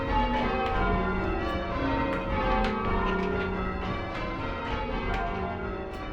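Church bells rung in changes in a tower holding some of America's oldest bells, a continuous overlapping peal of struck tones in steady rhythmic sequence, loud and resonant with no talk.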